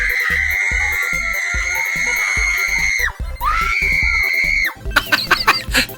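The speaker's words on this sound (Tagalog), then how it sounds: "Grabe sigaw naman." Shrill, sustained screams from people frightened by a mouse in a house ring out loud and close in long overlapping wails, followed by a burst of shorter yelps and cries.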